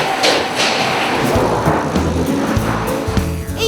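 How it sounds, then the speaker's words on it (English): Heavy factory press stamping flat sheet-metal blanks into car parts: repeated dull thuds over a loud, continuous mechanical rumble and clatter, close and steady throughout. "It's called a press. Inside, a heavy weight pushes down on the flat piece of metal to give it the shape of a car part."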